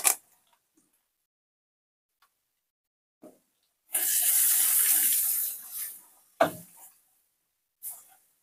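A short pour of water into a pot of village-style fish head curry, a single splashy run of a few seconds followed by a couple of brief clinks.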